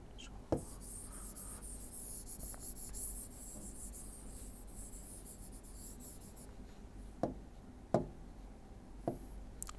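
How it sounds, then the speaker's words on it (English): Pen writing equations on paper during a coordinate systems lesson, a soft continuous scratch of strokes with a few sharper taps, close and quiet, with no talking. "So let me write them."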